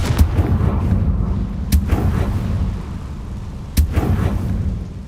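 Confringo blast spell cast in the video game Hogwarts Legacy: two sharp booming explosive bursts about two seconds apart, each with a short crackling tail, over a constant low rumbling game ambience.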